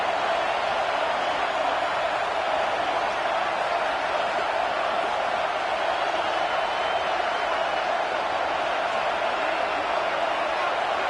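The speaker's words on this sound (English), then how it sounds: "Listen to this crowd just shaking the girders of this place" Stadium crowd at a football game roaring continuously as the home fans try to rattle the opposing offense, a dense, steady wall of noise with no break, under faint voices.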